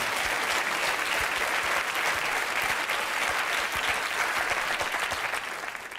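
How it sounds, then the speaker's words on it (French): Studio audience applause on a television programme, a steady, even wash of many hands clapping at moderate distance, holding for several seconds before fading slightly at the end. "On vous applaudit, merci, monsieur."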